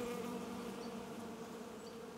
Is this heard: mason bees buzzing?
yes